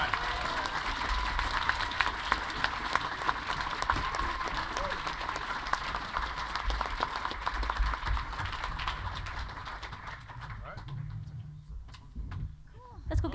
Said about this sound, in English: I think a big round of applause for these guys